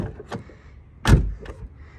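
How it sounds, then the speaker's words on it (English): The repaired door handle of an Infiniti G35 or FX35 is pulled, giving a few brief clicks and a louder mechanical clunk near the middle, with quiet gaps around them. "Now you got a door handle you can yank on."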